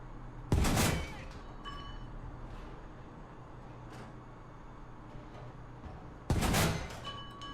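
Two loud, sharp cannon blasts strike near a player's tank in the War Thunder tank battle, a British Matilda Mk II, one near the start and another about six seconds later, over a steady low engine rumble.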